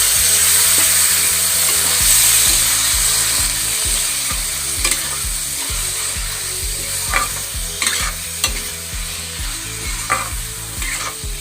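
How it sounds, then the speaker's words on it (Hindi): Chickpeas frying with spiced masala in a pan for halwai-style chhole, a steady close crackling sizzle throughout, with occasional scrapes and stirring knocks, no talk. "छोला डालकर 2 मिनट तक भूनेंगे।"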